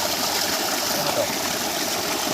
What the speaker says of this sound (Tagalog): Ito yung original na nature spring, guys.